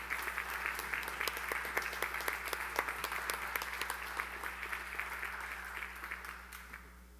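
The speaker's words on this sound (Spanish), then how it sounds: "A continuación damos un aplauso" A crowd applauds steadily at the opening of an international academic colloquium, a dense patter of many hands clapping, fairly distant, slowly tapering off toward the end.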